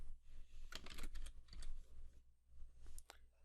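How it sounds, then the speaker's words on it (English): Quick bursts of typing on a computer keyboard, a short run of key clicks entering words into a search bar, fairly close and alone, with brief pauses between the bursts. "Inside of the search bar, we're going to type in virtual machines to get started."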